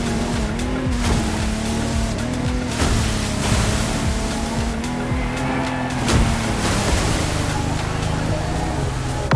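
A Lamborghini Technomar speedboat races across open water in the video game The Crew, its engine roaring steadily with splashing waves and a few sharp bursts, close and loud.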